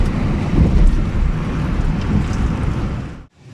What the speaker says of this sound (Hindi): हवा बड़ी तेज़ चल रही है।